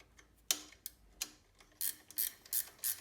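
A 12mm ratchet wrench threading a bolt into a plate during a VTX1300C forward control installation, giving a series of quiet, close, irregular clicks and ratcheting bursts.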